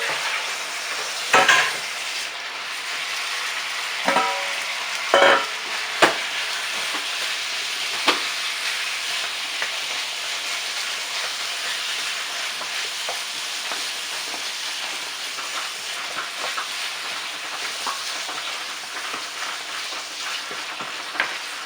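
Sliced poultry for a caramelized pineapple chicken hits a hot frying pan with a few sharp clatters, then settles into a steady, close sizzle that hisses on for a long stretch.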